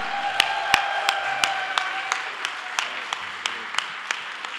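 An audience at a volunteer award ceremony applauds steadily, the clapping a dense, even patter with sharper individual claps standing out at regular intervals throughout, with faint voices underneath.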